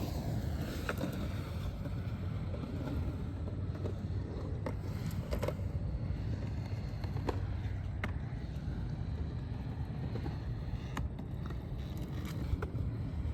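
Skateboard rolling steadily on Andy Anderson wheels and bearings during a warm-up, a continuous low rumbling roar with occasional small clicks and bumps from the surface, close and sustained throughout.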